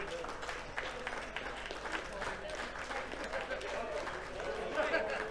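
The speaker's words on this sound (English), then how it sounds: "And keep the applause going for your" At the Six Nations Darts Championship, the crowd applauds the finalist with steady, fairly faint clapping mixed with crowd noise and some talk, continuing at a level pace throughout.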